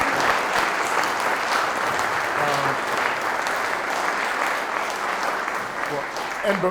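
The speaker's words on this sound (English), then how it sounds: "can we give everybody up here a nice round of applause?" Audience applause after a panel discussion, a full and sustained round of clapping from a sizable crowd, loud and continuous for several seconds with faint voices underneath.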